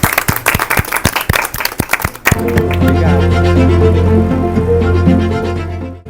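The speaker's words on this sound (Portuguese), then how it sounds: "palmas para o Rony." Brief round of applause from a small group, scattered claps for a couple of seconds before music takes over.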